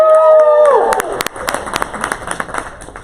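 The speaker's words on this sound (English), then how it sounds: "cheer for Wakelet" Audience clapping and cheering at a presentation, a burst of scattered claps and cheers that fades over a few seconds, entering just as a voice finishes.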